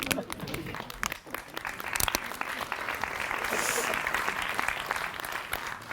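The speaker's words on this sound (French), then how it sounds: "on m'applaudit pour rien" Audience at a live comedy show breaks into steady, dense applause that swells and holds for several seconds, with crowd noise and some voices mixed in.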